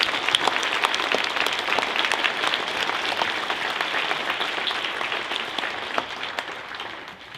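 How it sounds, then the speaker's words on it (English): A round of applause from the crowd at a Port Edwards Veterans Day ceremony for the speaker, steady even clapping that holds throughout and thins out at the very end. "Please give our speaker another round of applause."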